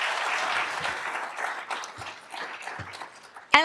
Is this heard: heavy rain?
no